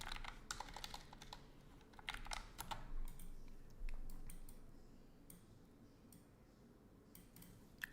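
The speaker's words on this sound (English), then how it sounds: "So let's type the note." Quiet, quick bursts of keystrokes on a computer keyboard as a note is typed during live chart trading, clicking in irregular runs before trailing off into near silence.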